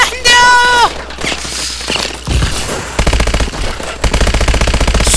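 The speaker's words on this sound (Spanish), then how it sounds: "¡Fuego enemigo!" Rapid automatic gunfire in Call of Duty: Advanced Warfare, loud bursts of repeated shots crackling through the game's action, with a tonal electronic whine at the start.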